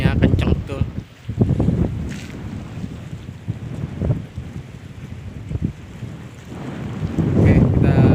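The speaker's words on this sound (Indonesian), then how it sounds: "tapi mancing anginnya kenceng betul" Strong wind sweeps across the Ambalat bridge during a fishing trip, rumbling and buffeting the microphone in loud, continuous gusts that swell again toward the end.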